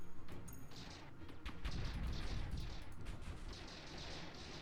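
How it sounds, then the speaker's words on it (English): Broadside weapons on a spaceship fire in the Stardrive 2 strategy game, a loud, dense barrage of overlapping booms and crashes that rolls on without a break. "Alright, unload the broadside!"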